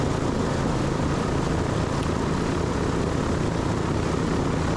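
B-29 bomber "Doc" with its propeller engines running at full takeoff power: a loud, steady, dense roar that holds unbroken and close throughout, with no talk over it.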